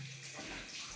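Cold water runs from a tap during a classic wet shave with a Muhle R89 razor, a close steady rushing stream with faint shifts in flow.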